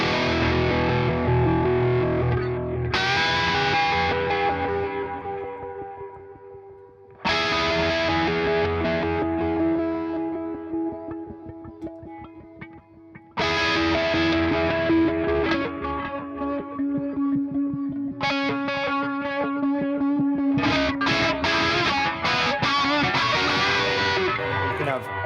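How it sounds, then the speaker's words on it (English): Electric guitar played through amp distortion on a MIDI-controlled pedalboard, loud sustained distorted chords ringing out and decaying in several sections, with fresh strums restarting the sound. "I'm using amp distortion."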